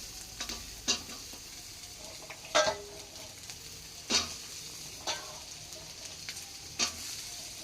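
Onion, garlic and grated coconut fry in a pan as filling for stuffed bitter gourd, with a soft, steady sizzle broken by a spatula scraping and stirring every second or so, close up and with no talk.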